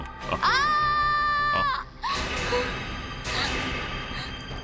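A woman lets out a loud, sustained scream lasting over a second, then breaks off into quieter shrill cries and muffled noise.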